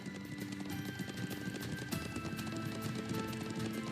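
A horse ridden across open ground in the role-playing game The Legend of Heroes: Trails into Reverie gives off a rapid, steady clip-clop of hooves under continuous game music and ambience.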